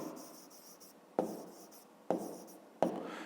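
Numbers are handwritten for a fifth-grade maths exercise: soft scratchy strokes run in bursts, each ending with a sharp tap, repeated several times up close with no voices.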